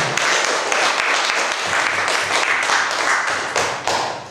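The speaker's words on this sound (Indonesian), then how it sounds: "Kita beri tepuk tangan dulu untuk semua kelompok." Classroom applause from students for all the presenting groups, a loud, dense and continuous clatter of many hands with occasional thumps, holding steady for several seconds.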